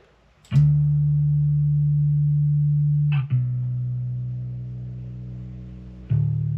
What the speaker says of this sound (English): use this Kawasa bass amp plugin